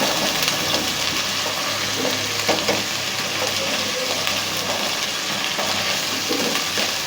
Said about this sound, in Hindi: ये भुनाई कर लें अच्छी तरह से। ये बिल्कुल अदरक लहसुन बिल्कुल हल्का ब्राउन हो जाए